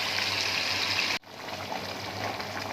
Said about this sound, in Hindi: अब इसमें हम 1 गिलास पानी डालेंगे ताकि गोश्त अच्छी तरह से सॉफ्ट हो जाए